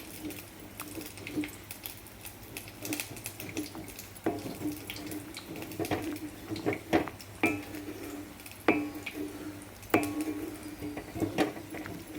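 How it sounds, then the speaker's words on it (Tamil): Thick banana leaf halwa being stirred slowly over low heat in an iron kadai, with irregular scraping and knocking strokes against the pan over a steady watery background hiss. "இரும்பு கடாயிலே கிண்டிக்குவோம்"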